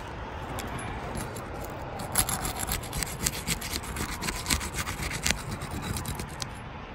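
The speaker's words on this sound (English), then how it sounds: "We're going to cut it so we don't have to take out a large area." A roof shingle is cut during a repair, giving quiet, steady rasping sawing strokes that grow a little sharper and more rhythmic toward the end.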